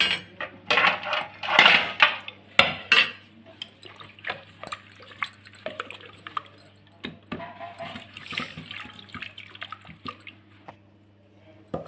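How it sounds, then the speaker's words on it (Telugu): Cooked dal, made with ridge gourd, being mashed with a wooden dal masher in a pot, giving wet squelching, clacking knocks and scraping against the vessel, loudest early and then softer and irregular, with no talking. "దీన్ని పప్పు గుత్తితో మెదుపుకుందాం"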